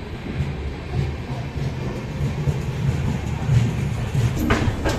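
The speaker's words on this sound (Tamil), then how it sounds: "நம்மளுக்கு பக்கத்து பிளாட்ஃபார்மில் பார்த்தீங்கன்னா நாகர்கோயிலேருந்து தாம்பரம் போகிற அந்தியோதயா தாங்க டிபாச்சர் ஆகி போயிட்டுருக்கு" The Nagercoil–Tambaram Antyodaya Express pulls away from the next platform at a station, a continuous loud rumble of rolling wagons that stays steady throughout.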